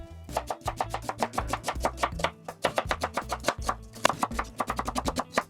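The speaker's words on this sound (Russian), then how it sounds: "Также соломкой режу крупную луковицу." A knife slices a large onion into strips on a cutting board, making fast, steady, crisp taps close by. They come in short runs with only brief pauses and no talking.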